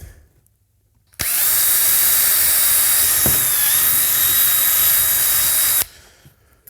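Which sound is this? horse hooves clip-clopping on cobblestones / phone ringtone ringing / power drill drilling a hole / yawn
power drill drilling a hole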